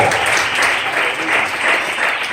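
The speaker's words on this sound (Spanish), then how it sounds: "Denle ese aplauso al Hijo de Dios" A church congregation applauds in a steady, full wash of clapping that swells slightly and carries on for a couple of seconds.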